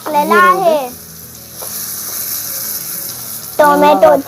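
Onion and tomato frying in a pan on a small wood-fired stove give a steady, close sizzle through the middle, with a voice speaking briefly at the start and again at the end.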